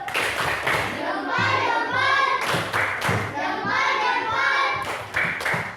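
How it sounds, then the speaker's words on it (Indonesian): A class of children performs a 'tepuk salut' patterned clap, sharp rhythmic bursts of group clapping in distinct beats, with a teacher and children speaking and chanting between and over the claps. "Tepuk salut dulu, tepuk salut."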